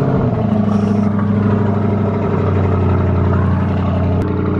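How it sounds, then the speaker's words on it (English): A Lamborghini Urus fires up from cold, its engine settling into a loud, throaty, steady rumble with a rough, clattery edge that holds close and strong throughout. "I love the cold start on the Lamborghini Urus. It's loud enough and throaty as it is."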